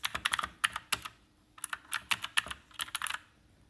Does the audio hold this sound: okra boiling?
no